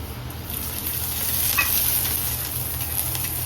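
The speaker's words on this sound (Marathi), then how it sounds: "आता लसूण टाकलाय." Garlic frying and sizzling in a pan on the stove, a steady close hiss with soft stirring scrapes throughout, no voices.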